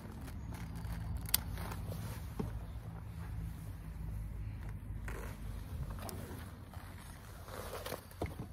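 Secateurs snip small stems on a shrub rose during winter pruning outdoors, a few sharp, faint clicks scattered over steady wind and rustling.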